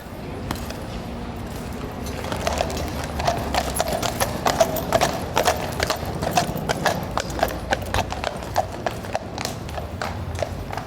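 Horse hooves clip-clop steadily on a Paris or London street, a dense run of sharp repeated knocks over a low background hum, with a faint whinny among the strikes.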